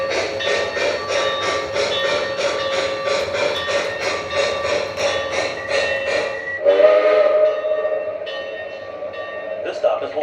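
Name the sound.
O scale model train arriving at station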